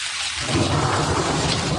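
Rare thunder snow booms during a late-winter blizzard in western Wisconsin, a loud, continuous rolling rumble that swells and holds for about two seconds before cutting off.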